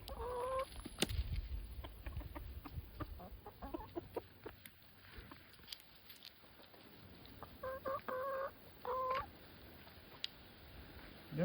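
Backyard hens cluck in short, repeated bursts close by, with a rooster-like call early on and scattered pecking and rustling between calls.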